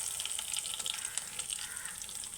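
Cumin seeds and curry leaves sizzle in hot oil while cooking egg mulakkaya pulusu, giving a close, steady crackling hiss with small pops throughout.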